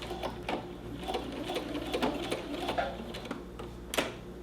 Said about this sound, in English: And then I'm gonna do another back stitch, for me anyways, to tie it off.